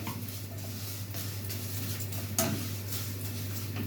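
Vermicelli browning in a pot on the stove for an Egyptian rice dish, with soft metallic scraping and light clinks of a spoon stirring against the pot, fairly quiet over a steady low hum, one sharper clink partway through.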